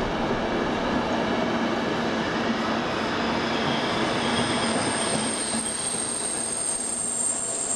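A train rolls steadily along the rails in southern Italy on the way to Cosenza with a continuous loud rumble and a faint metallic squeal from the wheels, with no pauses.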